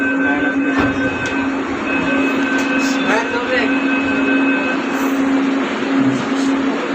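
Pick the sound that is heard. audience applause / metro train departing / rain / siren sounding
metro train departing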